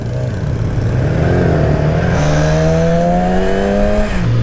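A 2014 Yamaha R6 sport motorcycle with its stock exhaust revving hard and pulling away nearby, loud rising engine tones climbing through the gears with a whining, high-pitched howl.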